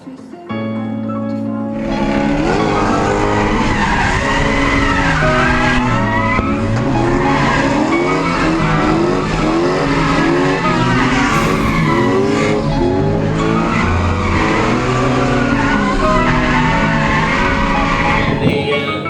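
Drift cars at a state drift series event roar and skid, with loud screeching tire squeals and engines revving hard and continuously up close, without a break.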